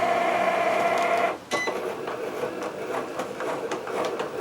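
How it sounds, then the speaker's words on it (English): Cricut Explore One cutting machine working through cardstock: a steady whirring motor drone that stops abruptly, then gives way to irregular mechanical clicks, whirs and carriage movements, close by with no voices. "I want you to take notice of the sound of the Cricut Explore"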